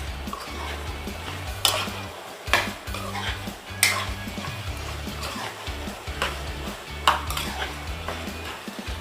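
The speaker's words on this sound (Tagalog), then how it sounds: "Ayan, i-mix natin ang ating chicken." Chicken is stirred in a smoking-hot pan for a mung bean dish with chicken, celery and alugbati. A spatula scrapes and clanks against the metal several times over a steady close sizzle, with no talking.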